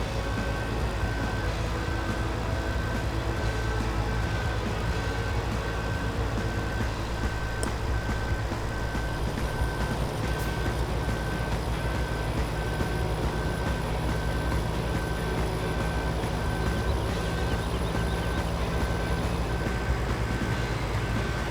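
A vehicle's backup buzzer in Farming Simulator 17 while the unit reverses: a steady repeating beep tone pulsing over a constant loud engine drone for about twenty seconds, with no talking.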